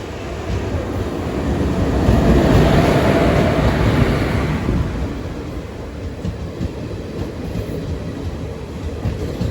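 An express train to Thiruvananthapuram, hauled by a WP4 locomotive, runs with a continuous loud rumble and rattle that swells and then eases slightly. The sound is heard from on board or close by.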